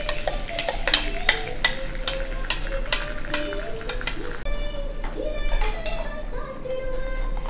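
Ground paste stirred into melted butter in a pan for paneer butter masala, a steady close sizzle with scraping and clinking of a spoon against the pan, with a voice talking over it.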